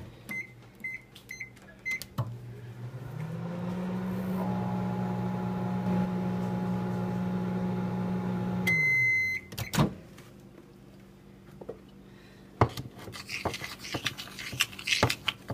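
A microwave oven melting white chocolate chips hums steadily for about five seconds and then stops with a short beep. Faint kitchen clatter and handling noises come before and after.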